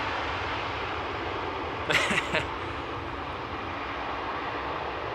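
Transavia airliner arriving at Amsterdam Schiphol Airport on a windy day, a steady broad engine roar held throughout with a brief louder burst midway.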